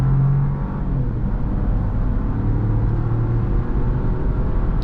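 A 2024 Buick Envista Avenir accelerating hard from a standstill toward 60 mph with wheel spin, heard from inside: a steady, loud engine drone and road rumble that holds level for about five seconds, with no talking.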